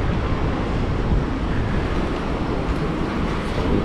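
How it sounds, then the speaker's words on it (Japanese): Steady, dense hiss of rain pouring down continuously in Hong Kong, a constant wash of noise without pauses or other distinct sounds. "さっきからずっと雨が降ってるんですよね。"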